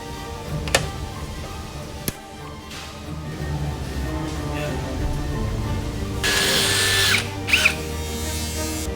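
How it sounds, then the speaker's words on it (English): Rivet being set while fitting a topside bulkhead brace on a vintage GPO 550 jet ski, a brief close whir of the riveting tool near the end amid faint clicks and low background noise. "First rivet's going in."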